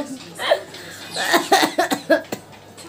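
A few short, sharp coughs come in a quick burst near the end, with softer vocal sounds like a laugh or breath just before.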